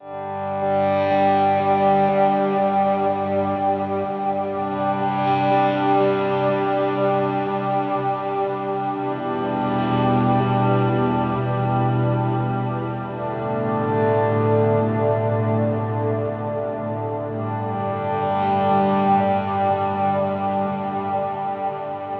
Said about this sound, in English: We're going to add in our reverse delay. Go ahead and turn on our reverbs here.